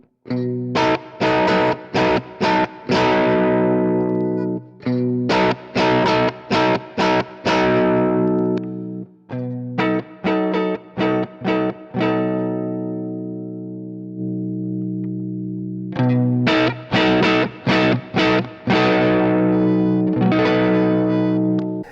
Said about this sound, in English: It's like an out of phase sound.